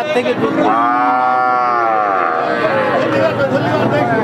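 A young cow moos once at a cattle market, a long, loud, low call close by, with voices and crowd chatter around it.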